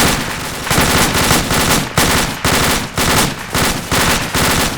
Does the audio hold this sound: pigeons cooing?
no